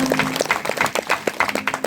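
Audience applause ripples through a crowd at a lively Konkan folk stage show in Talvali, Guhagar, with dense, steady clapping across the whole stretch and a faint tone underneath.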